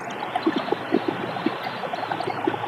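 Water pours steadily into a raised aquaponics grow bed, a constant close trickle and splash with small repeated gurgling bubbles.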